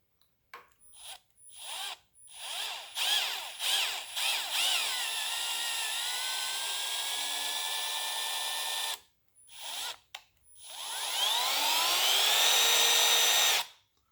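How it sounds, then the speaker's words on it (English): A power drill turning a thread tap whirs in short bursts, then runs steadily at a high pitch, stops briefly, and spins up again, close and fairly quiet, during crack repair on a Ford 390 FE big-block engine. "I always turn my drills down, so in case the tap stops, the drill will stop"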